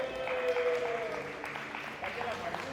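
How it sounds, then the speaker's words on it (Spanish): Church congregation applauding to welcome a guest, a steady wash of clapping that fills the whole moment and mixes with a voice speaking over it. "Denle un aplauso a José de bienvenida."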